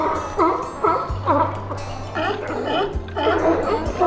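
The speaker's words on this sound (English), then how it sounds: "The barking sea lions that populate the docks along the bayfront." Sea lions barking on the bayfront docks of the Oregon coast, a chorus of repeated hoarse, rhythmic barks from several animals close by, with a low engine-like hum underneath.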